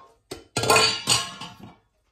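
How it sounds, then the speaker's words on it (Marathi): A pressure cooker and plates handled close by in a home kitchen, giving a few bright metallic clinks and clatters in two quick bursts, then quiet, with no talking. "कालचे थोडीशी भांडी आहेत बघा, कुकर आणि प्लेट."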